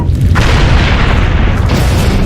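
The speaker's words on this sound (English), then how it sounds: "Two separate explosions at the same time rock a natural gas pipeline in the Mexican state of Guanajuato." Natural gas pipeline explosions in Guanajuato, Mexico: a very loud continuous booming roar that fills the whole moment, close and overwhelming, with brief sharper bursts layered in.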